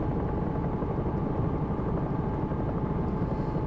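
Simulated Bell 222 helicopter rotor and turbine drone from X-Plane 11, a steady, dense low-pitched thrum that stays loud and even throughout with no voices.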